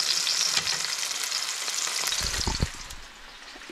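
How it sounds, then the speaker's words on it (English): Tortillas fry in a pan in an off-grid cabin kitchen, giving a steady, close hiss of sizzling oil with a few soft clatters from the pan toward the end. "Been frying up the tortillas."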